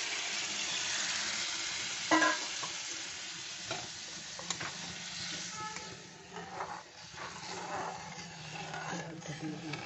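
Lentils (dal) tipped into hot oil in a pan for a vegetarian aubergine dal, giving a steady close sizzle with scraping stirs and a few sharper clatters throughout.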